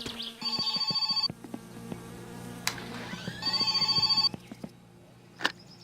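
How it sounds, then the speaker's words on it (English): Telephone rings twice in the Finnish rally-car survival game My Summer Car, two bursts of bright repeating electronic trills separated by a pause, over a quiet droning background with small clicks. "The phone."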